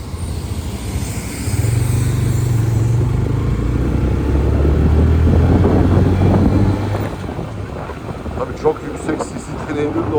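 A 2023 TVS Raider 125 cc motorcycle engine runs steadily while riding, a loud low drone with rumbling tones under heavy wind buffeting for most of the stretch, easing off near the end.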